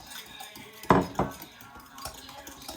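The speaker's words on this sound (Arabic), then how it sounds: "حرك حرك بيان" A spoon stirs food in a pot, giving two sharp metallic clanks against the side followed by softer scrapes and taps, close with quiet room noise and no speech.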